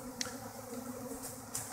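A swarm of bees hovers around a flower pot, giving a steady, low, droning buzz that stays fairly quiet and continuous, with a couple of brief sharper ticks in between.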